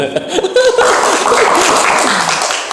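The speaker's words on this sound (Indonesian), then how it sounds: "Tepuk tangan kalian." Audience at a church sermon applauds, with laughter and chuckles mixed into a steady wash of clapping that swells quickly and holds at full level.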